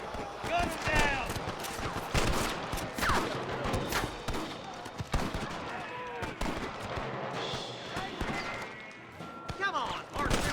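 Gunfire in a shootout in the Western video game Red Dead Redemption, rapid scattered shots and sharp cracks popping throughout, mixed with shouting voices and game effects.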